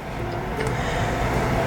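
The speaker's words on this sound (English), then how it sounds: "Wait, there's another train coming." A train rolls past with a steady, continuous rumble and rattle of rail wagons at a constant, fairly loud level, with no one talking.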